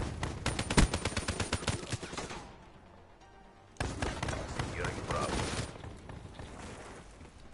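Rapid assault rifle fire in a Black Ops 3 multiplayer match, dense automatic bursts in two long stretches separated by a brief lull, loud and close, with players talking over it.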